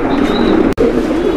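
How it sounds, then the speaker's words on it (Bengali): Pigeons coo softly and repeatedly at close range in a continuous low, throaty murmur, with a brief clunk partway through. "খুব সুন্দর কবুতর কিন্তু"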